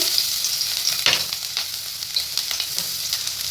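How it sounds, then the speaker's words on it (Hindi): Crushed garlic dropped into hot oil in a pan for a vegetable hot and sour soup, giving a steady close sizzle with crackling bursts and light stirring scrapes, no talk. "गरम ऑयल के अंदर शामिल करेंगे 1 चम्मच कुटा हुआ लहसुन"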